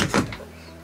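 A broken door is pulled open with one short, loud scrape and rattle, then settles into quiet.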